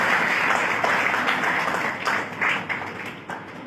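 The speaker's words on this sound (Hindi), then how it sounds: "उनके लिए जोरदार तालियां हो जाएगी।" Loud applause from a seminar audience greeting an honored guest, with many hands clapping together in a thick, continuous burst that dips and swells before trailing off.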